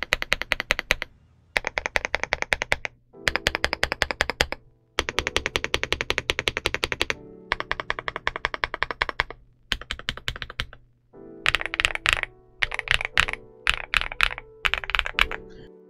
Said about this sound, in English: I am liking how this keyboard sounds stock.